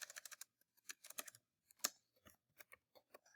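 Quiet, close keystrokes tap out in irregular bursts on a computer keyboard, with one sharper click standing out midway and brief pauses between runs of typing.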